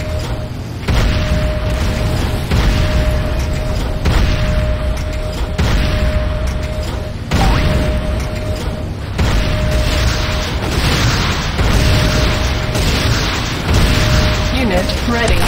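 The Nod airstrip in the Renegade game blows up in a series of heavy booms and crashing bursts. A synthetic announcer voice calls out alerts through the destruction.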